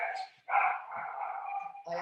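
Dogs bark at home during an online math class, giving sharp, repeated yelps close to the microphone that mix with a voice throughout.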